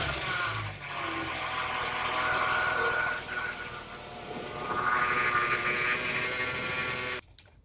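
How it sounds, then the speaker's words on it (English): Power steering pump on an AMG C63 running dry with no fluid, wheels at full lock, giving a sustained whining, groaning drone with layered tones that swells midway and cuts off abruptly near the end, no talking. "that's the sound of the power steering pump trying to pump that fluid around"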